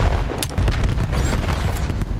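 Grenades explode in a Call of Duty match with continuous rumbling booms and thuddy bursts that crowd together. The sound is loud and dense throughout, with no voices over it.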